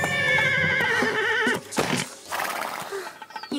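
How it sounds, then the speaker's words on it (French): A nervous cartoon horse gives a loud, wavering whinny up close, followed by snorts and a few hoof clip-clops as the neigh breaks off and quiets. "Il ne faut jamais passer derrière un cheval nerveux."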